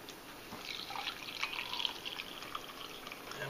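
Recently boiled water poured into a drink made from a 2014 UK 24-hour ration sachet, a soft, steady liquid trickle with faint dripping and splashing, close and quiet, with no talking.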